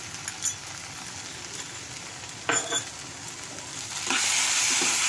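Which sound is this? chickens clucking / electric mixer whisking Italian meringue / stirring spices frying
stirring spices frying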